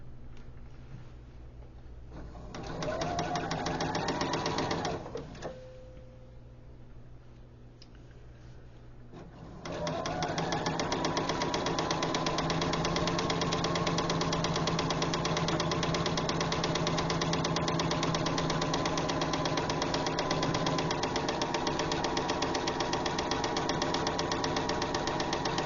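A sewing machine stitches a final sashing strip onto a quilt row, running in a steady loud mechanical whir, briefly dropping off for a pause before resuming and continuing unbroken for a long stretch.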